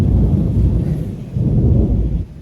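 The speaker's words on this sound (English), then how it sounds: "There's also some thunder and lightning going on." Deep thunder rumbles low and loud through a rainstorm at dusk over a Polynesian-themed resort, swelling in two long rolling waves with no speech.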